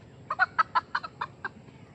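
A chicken clucks in a quick run of about eight short, sharp clucks at close range against a quiet background.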